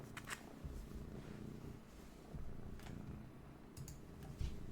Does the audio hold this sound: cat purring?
yes